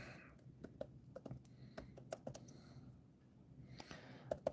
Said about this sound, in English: I can type it in.